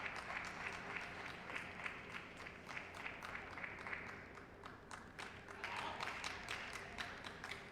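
Rhythmic clapping from a Chinese coach courtside at a Paralympic men's singles table tennis final, Poland against China, in Rio, quiet and distant with arena murmur around it, claps coming steadily in a quick repeating beat.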